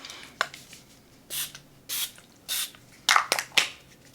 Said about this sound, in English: this is just the Bath & Body Works Butterfly Fine Fragrance Mist